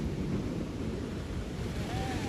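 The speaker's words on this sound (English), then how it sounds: "Watch the power of this mud just push everything down" A mudslide of dark, ash-laden mud as thick as cement flows through a burn scar area after torrential rain in California, a steady, heavy rushing roar with wind buffeting, continuous and close.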